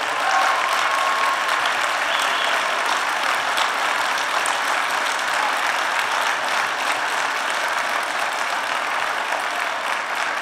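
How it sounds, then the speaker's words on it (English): Sustained applause from a large conference audience fills the hall after a political speech, steady and dense throughout with no pause, a continuous wash of many hands clapping. "I thank you for that, but don't clap all my time away."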